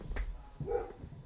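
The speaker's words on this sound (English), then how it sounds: "Sorry for my dog." A pet dog barks indoors, one short yelping bark followed a moment later by a second whining bark, both fairly close and moderately loud.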